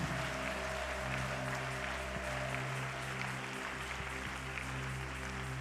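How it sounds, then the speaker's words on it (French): A church congregation claps in praise during a mass prayer service, a dense, steady wash of applause filling the room for several seconds over a sustained musical drone. "applaudis très bien pour le Seigneur."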